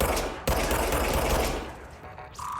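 Rapid automatic gunfire in the video game Control, a dense loud burst of shots that cuts off near the end, followed by a brief tone.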